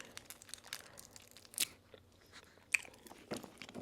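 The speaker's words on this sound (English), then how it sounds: "Let me eat a Snicker." Someone bites into a small Snickers chocolate bar, with quiet, close crunches and chewing and an occasional crinkle of the wrapper.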